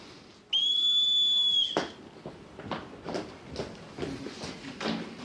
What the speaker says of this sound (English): When I sound the whistle, they will step forward and say their names.